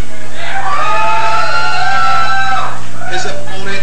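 An arm wrestling championship crowd cheers for competitor Dave Osborne with loud, sustained whoops and yells that swell and hold for a couple of seconds, then break into scattered shouts, all close and dense throughout.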